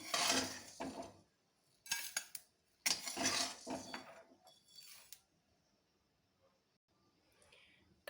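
Lightly roasted spices being scraped and scooped out of a cooking pan, a few short bursts of metal clinks and scraping against the pan separated by quiet gaps, close and clear.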